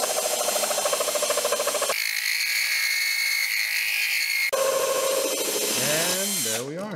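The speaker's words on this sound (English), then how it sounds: "I'm just letting the drill do its work." A power drill whines steadily at close range boring through a glass wine bottle, changing pitch abruptly as it bores, then winds down with wavering tones at the end.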